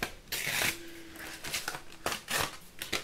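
Paper pieces are cut out with scissors for a doily-style card effect, giving short crisp snips and rustling strokes close by in quick irregular bursts.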